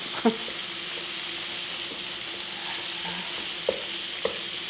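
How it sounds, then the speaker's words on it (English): Hamburger meat browning in a pan for a leftover pizza pasta bake, a steady close sizzle with a few faint scraping stirs and small clicks. "Just gonna let that cook and let the hamburger brown."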